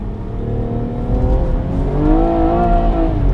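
An Alfa Romeo sports car's engine pulls hard under acceleration, a steady, close, full-bodied note that climbs in pitch over a few seconds, with no voices.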